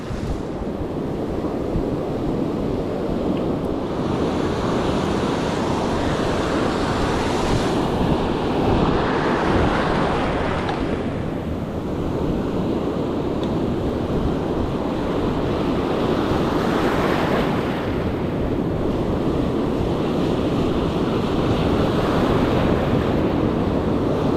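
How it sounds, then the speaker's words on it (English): Ocean surf at a beach where someone is surf fishing for barred surf perch: a continuous roar of breaking waves with slow swells in intensity, loud and close, mixed with wind buffeting the microphone. "Surf is up. Tide's pulling out."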